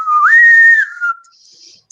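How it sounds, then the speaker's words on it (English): Starship intercom whistling to life: a single clear rising whistle that holds steady, then slides back down and fades, loud and close, with a faint airy hiss trailing after. "the ship-wide intercom whistles to life"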